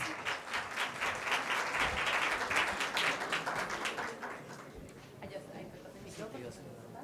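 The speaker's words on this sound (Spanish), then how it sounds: "Un aplauso, por favor, para ellos." An audience applauds steadily at a corporate talent-management session, the clapping swelling then tapering off over several seconds, with a voice briefly heard near the end.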